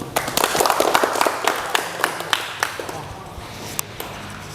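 Audience applause in a classroom teaching-performance exam, a burst of scattered claps that swells and then thins out over several seconds, with voices murmuring underneath.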